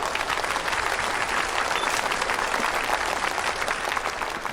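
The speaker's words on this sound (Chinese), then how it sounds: "现在让我们掌声欢迎车厘子老师为大家分享" Audience applause welcoming a speaker to the stage, a dense, even wash of clapping that holds steady for several seconds with no voices over it.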